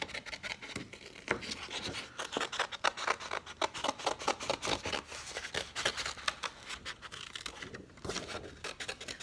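Scissors cutting an oval shape out of paper for a Halloween treat-bag craft: close, continuous rhythmic snips and crisp paper rustling throughout, with no talking.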